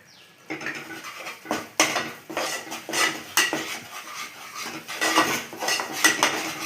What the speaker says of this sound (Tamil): எல்லாத்தையும் சேர்த்து வதக்கிடலாங்க